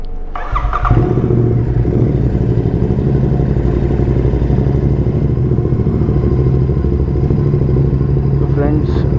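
A motorcycle is ridden on the road on the way to servicing, its engine droning steadily and loudly with wind rumble and occasional clatter throughout.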